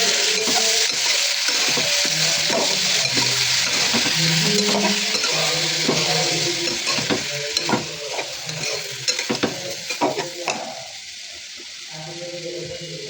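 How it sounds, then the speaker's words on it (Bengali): Chopped tomatoes and green chillies sautéing in a hot pan, with a steady, loud sizzle throughout and frequent scraping and clinking of a spoon as they are stirred, the frying quieting near the end. "এবার টমেটোগুলোকে নেড়ে ছেড়ে কষিয়ে নিচ্ছি।"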